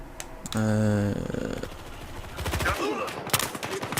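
Gunfire in the Battlefield Hardline video game, a sustained rapid volley followed by choppy bursts of shots, with a voice talking over part of it.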